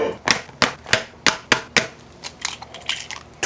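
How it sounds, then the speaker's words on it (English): Twelve eggs crack one after another against a bowl rim in a kitchen making breakfast sausage, giving sharp, close, evenly spaced taps that thin into softer, quicker cracks toward the end, with no talking. "12 eggs going into a bowl here"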